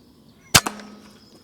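Air rifle fired at a squirrel near a feeder during outdoor pest control: one sharp close crack followed quickly by a fainter impact knock, then quiet.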